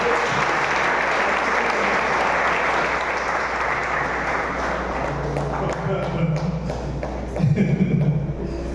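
Sustained applause from a large church congregation fills the space, steady and enthusiastic, with a few low voices rising briefly near the end.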